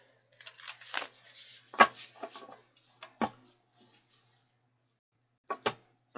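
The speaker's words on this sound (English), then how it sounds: "Let's give these some real good shuffles." A deck of playing cards being shuffled, heard as several separate bursts of riffling and rustling with quiet gaps between them, close by and fairly soft, with no one speaking.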